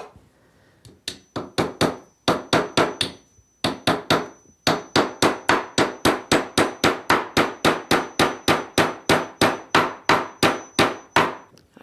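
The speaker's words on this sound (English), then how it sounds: "we're going to put another nail in on each end, and we're going to put it in so that it'll hold it just a little bit stronger" Hammer driving nails into wooden beekeeping equipment set on a table edge, a long run of sharp, evenly spaced blows close up, with a brief pause early on before steady rhythmic striking resumes.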